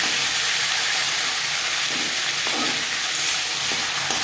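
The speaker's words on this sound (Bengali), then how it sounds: "একটা সাইড মাছের মাথা ভাজা হয়ে গেলে অপর সাইডটা উল্টে দেবো" A marinated fish head fries in a pan, giving a steady loud sizzle and hiss throughout with a few faint clicks of movement.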